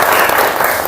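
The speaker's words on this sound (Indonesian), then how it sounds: "tepuk tangan untuk kita semua." A class of students bursts into dense, steady applause, loud and close throughout the short burst.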